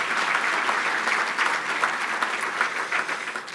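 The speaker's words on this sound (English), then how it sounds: "please join me in a round of applause for our sponsors" Sustained applause fills a banquet hall at a county State of the County luncheon as the audience claps for event sponsors, a dense steady patter of many hands lasting several seconds and tapering slightly at the end.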